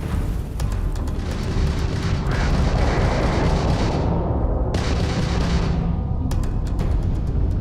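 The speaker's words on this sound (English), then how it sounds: "that's a Crimson Fleet ship bringing its weapons to bear" Crimson Fleet ship weapons firing during a space battle in Starfield, rapid loud bursts of gunfire and booming impacts in dense repeated volleys, with brief gaps between salvos.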